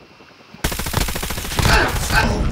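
A CX-9 submachine gun fires in a video game, a rapid burst of clipped, rattling shots starting abruptly after a brief quiet moment and continuing loud and close to the end.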